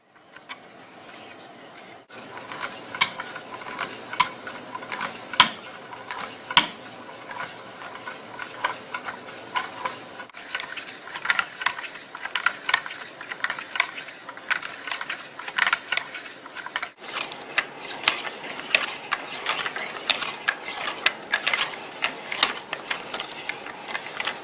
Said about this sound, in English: The simpler version has two shuttles that move perpendicular to each other along an X and Y axes.